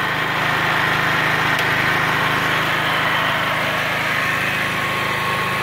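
A generator runs steadily with a MIG 160 welding machine switched on but not yet welding, a loud, even engine drone with a constant hum and no change in load.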